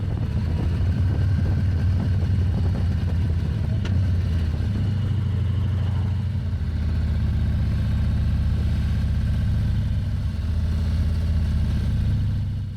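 A Harley motorcycle ridden solo along the Blackall Range roads gives a steady, close, low engine rumble that holds throughout with slight swells, with no talking.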